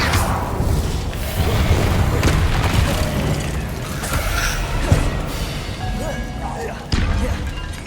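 Repeated booming blasts from the Confringo fire spell in Hogwarts Legacy, heavy thuds and crashes layered over a dense, loud game soundscape with a sharp impact near the end.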